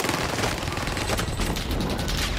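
A PPSh submachine gun fires in Call of Duty Warzone Pacific, sounding as a loud, close, dense rattling burst that runs on with little pause, backed by game noise and no talk.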